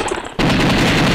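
A rapid burst of gunfire in the arcade shooter The House of the Dead, loud and close, starting abruptly after a brief quieter moment and continuing as a dense rattle.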